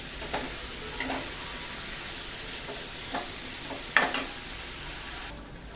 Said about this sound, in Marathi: आता ही भाजी आहे ही मस्तपैकी आपण हलवून घेऊया